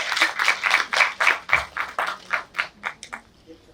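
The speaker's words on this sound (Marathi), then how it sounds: "सरांसाठी जोरदार टाळ्या वाजवायच्या." An audience at a university award ceremony claps in a brisk, rhythmic burst of about a dozen strong beats, close and loud, thinning out toward the end.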